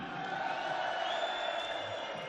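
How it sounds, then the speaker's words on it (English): Crowd at a darts tournament in Hildesheim, Germany, a steady wash of cheering and whooping from a large audience heard from a distance, with a voice mixed in. "The crowd is fantastic."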